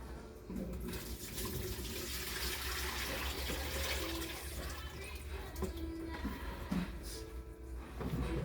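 Water runs steadily from a tap, a constant splashing rush with some clatter and faint voices in the background.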